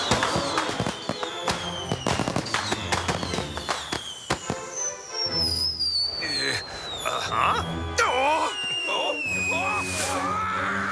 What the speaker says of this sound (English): Those are fireworks for a party at the governor's!